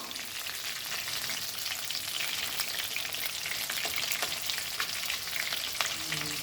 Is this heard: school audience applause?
no